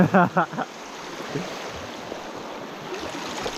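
Holly Creek, a knee-deep mountain creek, rushes with a steady broadband flow after a brief voice at the start.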